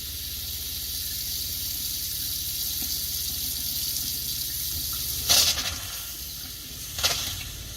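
Water runs steadily from an RV kitchen sink faucet during winterizing, a constant close hiss and splash with a couple of brief louder spurts near the end.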